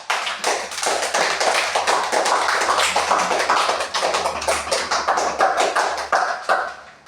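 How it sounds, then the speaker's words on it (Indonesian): A school class bursts into applause, many hands clapping quickly and steadily for several seconds, close and loud, then tapering off. "kita berikan apresiasi kepada kita semua dengan tepuk tangan"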